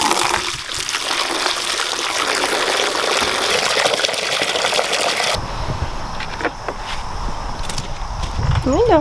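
Water splashes and trickles while animal buckets are rinsed during daily farm chores, a steady pour that cuts off partway, followed by quieter dribbling and handling noises.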